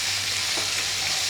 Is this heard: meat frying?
yes